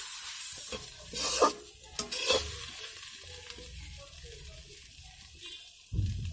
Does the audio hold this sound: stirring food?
yes